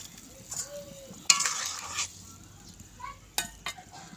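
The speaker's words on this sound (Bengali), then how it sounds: "এবার আমি দিয়ে দেব জিরে ধনে বাটা" Cumin and coriander paste stirred into a simmering thin fish curry broth with stalks and potatoes: a few quiet, short scraping clinks of a spoon against the pot over a faint background, with no talking.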